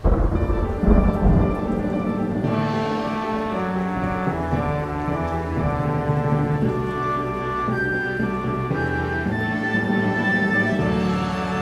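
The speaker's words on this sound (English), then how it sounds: "Oh, it's raining." A rain and thunder effect plays in a staged concert performance of a Little Women musical: a steady downpour and a rumbling thunderclap sit under sustained music throughout.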